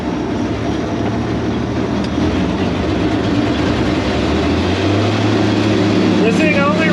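Engine of a Massey Ferguson 300 barn-find tractor running wide open in second gear, a steady loud low droning roar with a rising pitch shift near the end, continuous throughout.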